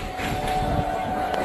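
Steady rolling rumble and rattle from inside a moving passenger train carriage, continuous and fairly loud throughout with a faint whistle-like tone running under it.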